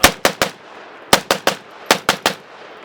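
A Hungarian AK63D rifle, a Century Arms AK-47 variant, fires three quick bursts of two to three sharp, loud, close shots each, with short pauses between bursts.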